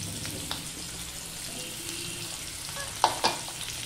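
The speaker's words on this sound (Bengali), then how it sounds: "আমি এবার আলুটা ফোড়নের সাথে রান্না করতে থাকবো" Potatoes fry in hot oil with tempering spices while being stirred, a continuous close sizzle broken by a couple of sharp utensil scrapes near the end.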